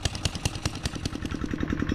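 A chainsaw engine used as a motor runs at a steady, rapid chug, its pulses quickening slightly toward the end, heard close and fairly quiet with no talking.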